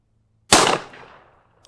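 A Beretta 92 pistol fires a single 180-grain .40 S&W Gold Dot round into clear ballistics gelatin, a sharp, loud report that rings out and decays over about a second in an otherwise quiet space.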